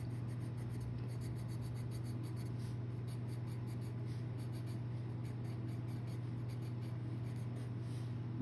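A Caran d'Ache Luminance coloured pencil rubs across paper in quiet, rapid back-and-forth strokes, a soft continuous scratching over a low steady hum.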